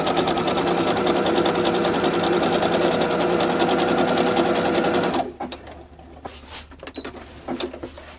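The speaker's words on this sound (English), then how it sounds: "one stitch falls off the edge and then comes back over. So it goes over and locks this thread in place, which is why it's called an overlock stitch" Overlock sewing machine stitching along a fabric edge for a costume robe, a fast loud steady whirring for about five seconds that then stops, followed by light handling clicks.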